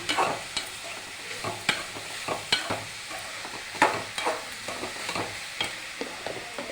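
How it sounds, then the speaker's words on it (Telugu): Ridge gourd stir-fried in a pan, with a steady sizzle under regular scraping and tapping strokes of a spatula, close and moderately loud, no talking. "నేనైతే బీరకాయ చేస్తున్నా."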